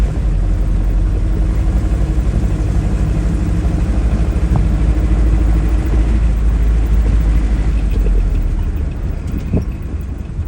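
A warmed-up Ford Model A engine fitted with a Holley 94 carburetor runs at idle, a steady close low mechanical rumble with an even churn throughout and no voices over it.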